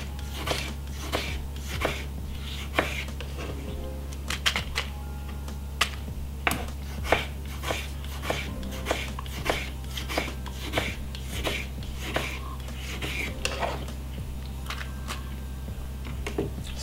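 A knife slices through a medium-sized tomato on a cutting board in a kitchen, with a series of short, crisp taps at an uneven steady pace, close and fairly quiet over a low hum.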